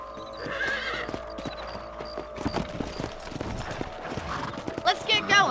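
Horse hooves clip-clop in the Western game Red Dead Redemption, a steady clatter of several horses riding along with whinnies and neighs mixed in, while game characters speak over them.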